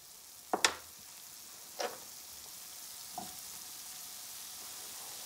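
Finely chopped onions drop into a hot pan and start frying, with a couple of quick rustling scrapes early on, then a quiet steady sizzle.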